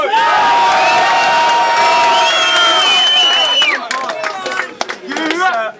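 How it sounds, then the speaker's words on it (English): A rap battle crowd at a Don't Flop event in Dublin erupts in loud, sustained cheering, whooping and shouting, close and dense at first, then breaking into scattered yells and cries toward the end. "Please make some noise for SUUS."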